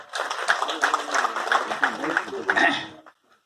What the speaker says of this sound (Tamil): அந்த டைரக்டர் ஒரு கைத்தட்டல் கொடுக்கலாம்